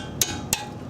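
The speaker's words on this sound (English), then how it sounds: "just give it a quick tap with a heavy hammer" Two sharp metallic hammer taps on a brake caliper, close and loud, spaced about a third of a second apart with nothing else around them.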